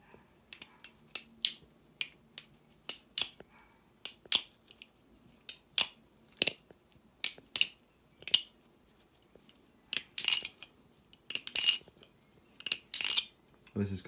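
A Nabalis Morse balisong butterfly knife is flipped in a quiet room, giving a series of crisp metallic clacks and clicks in uneven bursts, some single and some in quick doubled snaps, close and alone.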